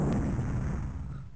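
Dramatic explosion from the Amiga strategy game Dune II, a loud burst at the start that decays into a rumbling, crackling tail over about a second and a half.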